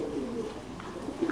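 Thai Titan meat pigeons at a pigeon farm in Đắk Lắk coo in low, soft, repeated murmurs against a steady background hum.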